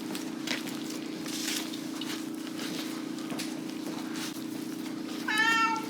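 A house cat meows in a short, clear rising cry near the end, close by, after several seconds of steady low hum and faint kitchen sounds during bread baking at home.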